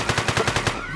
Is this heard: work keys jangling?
no